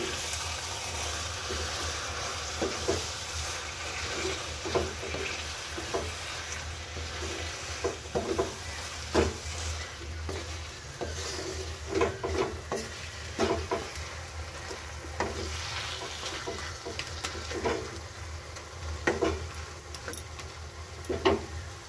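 Taro leaves and hilsa fish head sautéing in a pan, a soft steady sizzle broken by frequent short scraping and tapping stirs, close and fairly quiet, with no talking.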